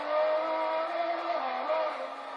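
Race cars lapping a circuit during a race, a sustained droning engine note that shifts pitch as they accelerate and pass, heard at a moderate distance without speech.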